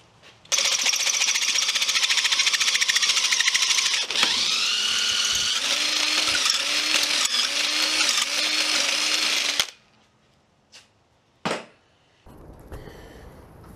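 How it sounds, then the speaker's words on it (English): A power drill bores a hole through thick metal on a Toro Power Box Harley rake, a loud steady grinding whine running about nine seconds with slight pitch dips, then cutting out, followed by a couple of short bursts. "just drill a hole through here and put a pin in it"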